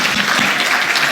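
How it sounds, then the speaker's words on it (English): A conference audience applauds the moderator and panel of a policy forum, with steady, dense clapping filling the room at full volume from start to finish. "we need another round of applause for an incredible moderator and a wonderful"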